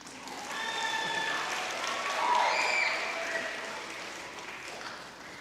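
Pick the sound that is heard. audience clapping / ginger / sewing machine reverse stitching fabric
audience clapping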